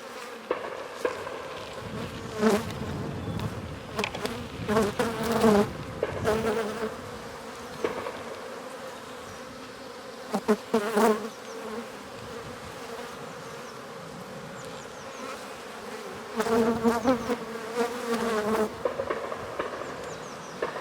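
Honeybees buzzing inside an opened hive during a spring inspection, with a continuous drone that swells into louder, closer passes at several points as bees fly near. No speech.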